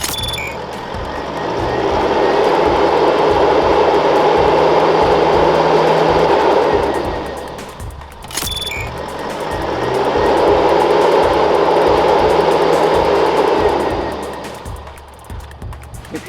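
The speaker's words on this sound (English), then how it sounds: "I'll rev it for 10 seconds and then at 10 seconds you start it over." A 4WD vehicle's engine is revved hard twice in long, loud rising and falling swells, close by, with a brief high tone between the revs.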